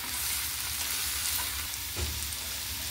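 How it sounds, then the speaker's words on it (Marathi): Spinach leaves sauté in a hot pan for a Hyderabadi paneer dish, giving a steady close sizzle and crackle throughout, with a faint stirring scrape near the end. "आपल्याला ह्यात आता पालक टाकून घ्यायचं आहे।"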